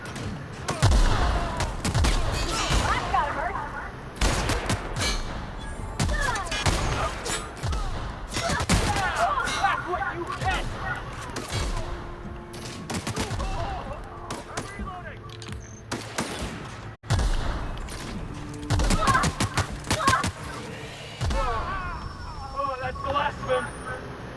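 Gunfire in the Outer Worlds video game, repeated shots and bursts crackling throughout amid game noise, mixed under someone talking.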